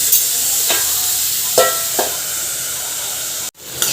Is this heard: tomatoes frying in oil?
yes